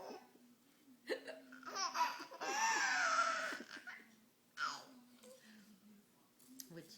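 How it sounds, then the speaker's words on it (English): A small child hiccups several times in short bursts, each one mixed with giggles and laughter, with an adult voice talking softly between them. "Can you hiccup?"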